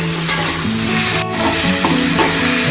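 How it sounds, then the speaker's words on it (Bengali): Jackfruit pieces frying in hot oil in a pan for a Bengali curry, a loud, close, continuous sizzle with stirring scrapes and a brief dip in the middle. "ইঁচড়টাও ভাজা হয়ে যাবে"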